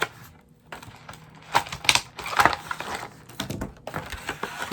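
A new package is opened carefully by hand, giving a run of close, crisp crackling and tearing sounds with light tapping clicks, bunched in bursts over a quiet room.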